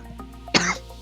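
A single sharp cough bursts out once, close and fairly loud, over a faint steady background hum, with no talking.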